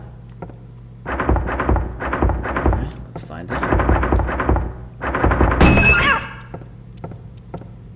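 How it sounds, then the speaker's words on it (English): Inside a school locker room in Silent Hill, a cat bangs around in metal lockers: three loud clusters of rapid, rattling thumps, each lasting about a second, with someone speaking briefly in between. "There's definitely something banging around these lockers over here."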